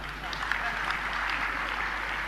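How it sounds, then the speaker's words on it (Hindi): Audience applause during a Hindi spiritual discourse by a Jain monk, a steady wash of many hands clapping at once, held at an even level for the whole stretch without breaks. "एक बार तालियां तो बजा दो।"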